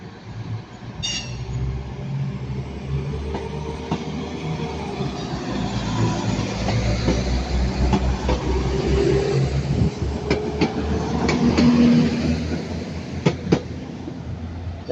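A Class 221 CrossCountry unit, 221131, pulls out of Manchester Piccadilly on the service to Bristol Temple Meads. Its diesel engine drones and builds as the train rolls away, with wheels clicking over rail joints and a brief high squeal near the start.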